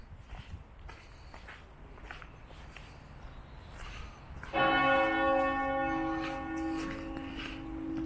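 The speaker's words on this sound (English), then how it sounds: "the bell goes off" Peterborough Cathedral's church bell strikes once about halfway through, loud and ringing with a long sustained decay, after quiet outdoor ambience with faint footsteps in the cathedral precinct.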